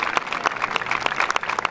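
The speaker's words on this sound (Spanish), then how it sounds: "fuerte el aplauso de este hermoso público que nos acompaña la noche de" A crowd gathered outdoors on a cold night for a serenade celebrating Paipa, Boyacá, Colombia claps steadily, a close, dense wash of many hands without pause.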